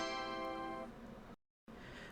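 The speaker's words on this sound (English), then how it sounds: "This one is just like a little ta-da sound like this." A short ta-da sound effect, added as a win sound for a Twitch gachapon redeem: a bright harmonic chime that rings for about a second and decays. It is followed by a brief gap and then a burst of noisy sound.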